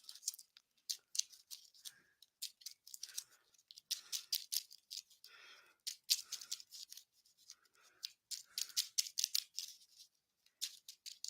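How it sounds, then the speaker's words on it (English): Playing cards for a racing board game are shuffled in quick bursts of crisp riffling and flapping, close and fairly quiet, with brief pauses between runs. "We'll shuffle the driver's cards up here."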